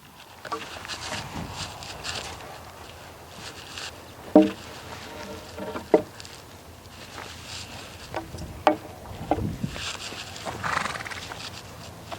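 A horse with a rider moving over jumps, hooves clip-clopping with several louder thuds and an occasional snort or whinny, fairly distant and outdoors.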